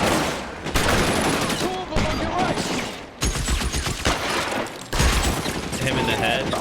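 Repeated gunshots and rapid gunfire in the crime video game LA Noire, loud and dense throughout, with a voice talking over the shooting.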